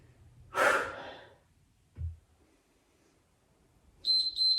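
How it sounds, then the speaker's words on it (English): Noisy breathing during a yoga HIIT core exercise: one long, forceful exhale near the start, a short low huff a moment later, then quiet before a brief high electronic tone near the end. "Nice noisy exhales as always."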